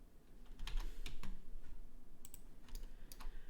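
Computer keyboard keys are pressed in a short burst of separate clicks while working in Blender 3D modelling software, close and fairly quiet, with no talking.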